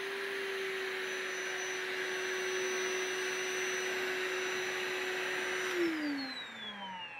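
A Kobalt 24V cordless chemical fogger runs at maximum setting with a steady, loud whirring blower hiss and a constant motor whine, which drops in pitch as it winds down near the end.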